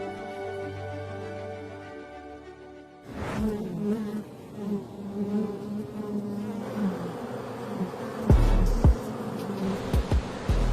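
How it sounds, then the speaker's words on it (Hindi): Honeybees buzzing around painted wooden hive boxes in Slovenia, a steady close drone that swells and shifts as insects pass, with a few soft knocks near the end. "लकड़ी के बने छोटे छोटे बक्से मधुमक्खियों का घर है।"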